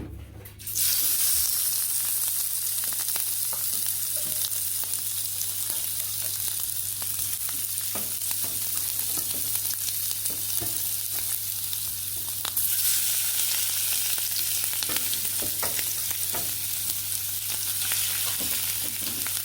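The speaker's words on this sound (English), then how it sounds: "So we're here sauteing the shrimp." Shrimp sauteing in coconut oil in a pot give off a steady, loud, close sizzle and crackle, briefly surging near the start and again partway through, with no talking.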